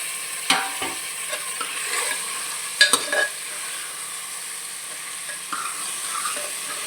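Onions and tomatoes fry in a pan for a mushroom curry, a steady soft sizzle broken by several sharp scrapes and clinks of a spoon stirring against the metal, with no talking.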